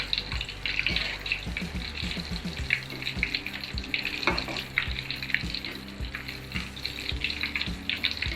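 Steady bubbling sizzle of sweet green gram dumplings frying in hot oil, with frequent small pops and crackles continuing throughout at close range.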